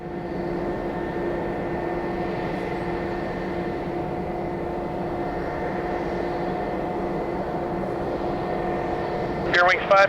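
Airliner engines at Detroit Metro Airport roar steadily as a broad, continuous wash with a faint whine on top, close and loud from start to finish, with a brief sharper burst right at the end.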